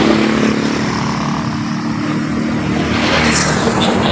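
A motorcycle engine runs steadily and fairly loudly in an outdoor setting in Tubod, Surigao del Norte, with a constant droning hum and no clear rise or fall over the few seconds.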